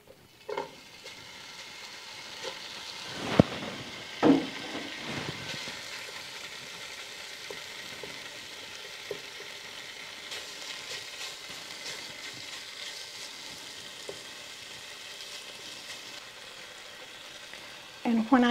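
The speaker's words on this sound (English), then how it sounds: "let me get over here and start frying up my bacon" Five strips of bacon fry in a pan with a steady, close crackling sizzle. A few louder clattering knocks early on, probably a utensil against the pan, break the constant hiss.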